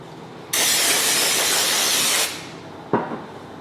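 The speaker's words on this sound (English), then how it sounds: "we're going to go ahead and clean this off with some carburetor spray" Carburetor cleaner sprays onto a crankshaft bearing surface during a Chevrolet 454 big block rebuild, a loud, close, continuous hiss lasting about two seconds, followed by a short second burst.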